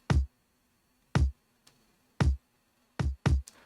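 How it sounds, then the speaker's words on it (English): Simple, live-sounding kick drum in a beat: five or six deep, punchy thumps in a basic, slightly uneven pattern, each decaying quickly into near silence, with one faint ghost hit. "It's also like a more live sounding kick."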